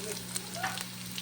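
Beetroot deep frying in plenty of oil, a steady close sizzle with a low hum beneath and small crackles and pops scattered through the brief stretch.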